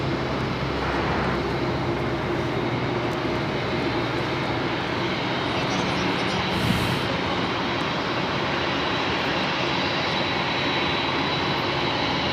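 An airliner taxis at Los Angeles International Airport, making a left turn onto taxiway Lima, its engines giving a steady, fairly loud rumble and whine that stays constant with no voices.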